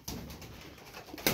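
Tumbler pigeons coo steadily inside a loft, soft repeated calls close by with a louder flutter-like burst near the end.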